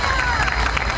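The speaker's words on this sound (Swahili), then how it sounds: "Ipigieni makofi" An audience applauds at a secondary school gathering in Dar es Salaam, a dense, continuous wash of clapping and crowd noise that stays loud and steady throughout.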